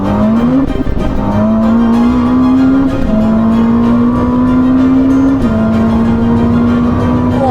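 A Ferrari SF90 supercar accelerates hard on a race track, its engine note climbing steadily through several gear changes, very loud and close throughout with no voices.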